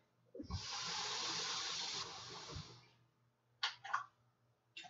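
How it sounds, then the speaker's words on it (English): A steady rushing hiss of CO2 bubbling through liquid in a brewing line for a few seconds, then fades, followed by two short sputtering bursts of bubbles. "The bubbling that you heard, that was the CO2 itself."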